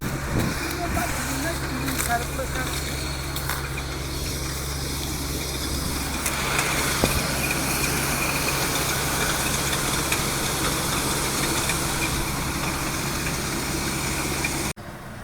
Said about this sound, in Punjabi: ਟਰੈਕਟਰ ਟਰਾਲੀ ਉਧਰ ਲਾਉਣੇ ਆ